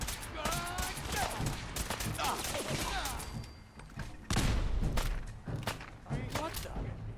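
Grenade blasts in Fallout 4 come as repeated heavy thuds and bursts mixed with gunfire crackle, loud and close, with a voice talking between them.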